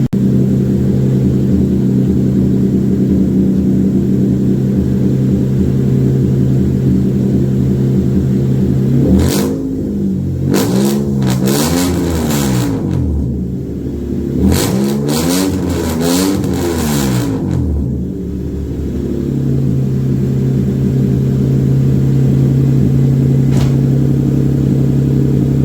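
A Toyota KE70 car fitted with a V6 engine idles steadily, then is revved hard in two clusters of rising and falling bursts before settling back to a loud, close idle.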